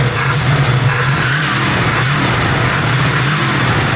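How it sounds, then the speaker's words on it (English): A 1971 Ford Gran Torino GT engine, belts in good shape, holds a steady loud throttled hum for about four seconds, a continuous near drone with no pauses or voices over it. "You can see the engine running here. There are no irregular noises, runs nice and quiet, hums right along. Let me throttle it here."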